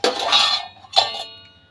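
Washed metal pots and dishes being stacked at home, giving a couple of bright clanks with ringing tones that decay away, heard close up with no talking.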